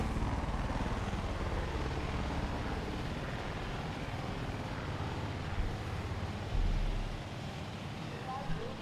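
Helicopter in the video game Far Cry 5, a steady loud rotor and engine roar with a wind-like rush filling the whole stretch, briefly swelling near the end.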